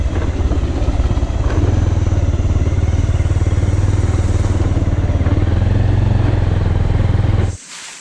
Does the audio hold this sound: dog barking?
no